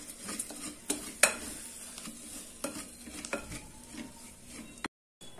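Broken rice grits are dry-roasted in a pan for tomato rice upma, with a spatula scraping and clacking against the metal in irregular strokes over a faint low sizzle, close and fairly soft, ending abruptly.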